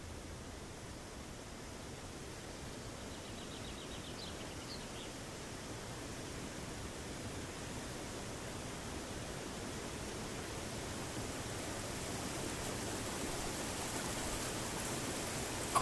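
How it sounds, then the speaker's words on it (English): Steady broadband rush of water flowing through a peaceful mountain valley, a continuous even wash that swells slightly louder toward the end, heard alone with no voices. "you can hear the sound of water."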